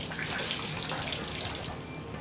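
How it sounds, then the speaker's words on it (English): Air and debris-laden water rush out of a water heater draining after a power flush, a steady hissing gush that stays loud and continuous throughout. "So right now, that's all the air that's coming out of the water heater as we did the flush."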